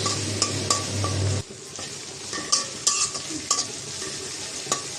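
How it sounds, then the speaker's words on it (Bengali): Dried shrimp and potato fry in a pan while a spatula stirs, with a constant sizzle and crisp, irregular scrapes and clinks against the metal close by. "পেঁয়াজের চিংড়ি মাছটা একটু ভেজে নেব"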